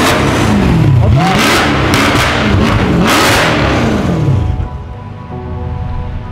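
A car engine revs hard several times in rising and falling bursts as the vehicle is driven into a hotel car elevator, loud and close, then drops to a lower steady hum near the end.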